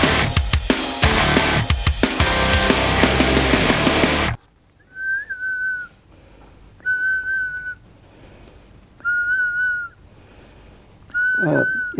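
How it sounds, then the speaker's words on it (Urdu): A person on a talk show whistles four short, steady, clear notes with brief pauses between them, following a burst of loud music. "سیٹی نکل رہی ہے؟"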